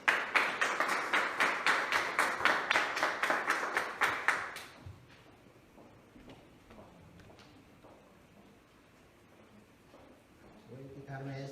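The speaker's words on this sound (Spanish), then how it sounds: "Recibimos un aplauso al hermano" Brief applause from a church congregation in Costa Rica, a few seconds of clapping up front with fast, fairly even claps that stop abruptly, followed by quieter room noise and scattered speech.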